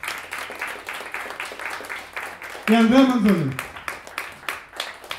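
A concert audience applauds two musicians, a dense, steady patter of many hands that keeps going while a man announces over it in the middle.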